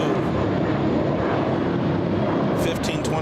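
A JetBlue airliner taxis at LAX airport, its broad engine roar rumbling steadily at moderate distance, with a person talking over it.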